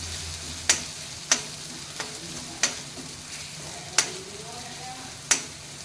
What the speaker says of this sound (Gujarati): સૂકા ધાણા મેં વાટી લીધા છે, એડ કરીશ. બરાબર શેકાવા દઈશું.